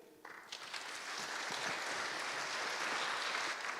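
Conference audience at a frontend developer event bursts into applause, starting sparse and quickly swelling into a steady, dense wash of clapping that holds evenly throughout.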